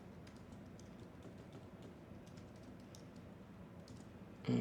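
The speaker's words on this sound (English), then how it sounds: "My keyboard is sticking." Soft, rapid typing on a sticking computer keyboard runs steadily under a low background hum, with faint clicks scattered throughout and a brief louder bump at the end.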